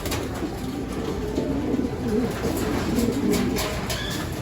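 Pigeons coo in a loft of stock birds, with low rolling calls repeating steadily over a constant background hum.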